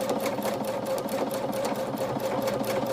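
A Bernina sewing machine stitching quilting on a pillow cover runs in a steady, continuous rapid whir with a fine needle-clatter rhythm, close and even throughout with no talking.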